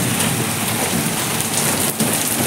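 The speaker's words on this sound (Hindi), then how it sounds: "बारिश आई जा रही है।" Heavy rain pouring steadily during a storm in a hill village, a dense, loud, unbroken hiss of downpour on surfaces.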